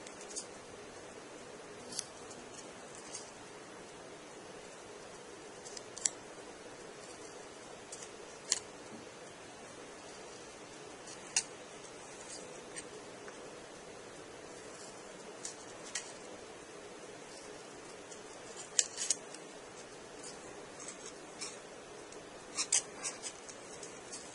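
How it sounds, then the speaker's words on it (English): Small, crisp scissor snips cutting angles into paper or card for a model airport jetway, sparse clicks scattered irregularly over a quiet room background, close and faint. "I like to do my angle cuts using the scissors"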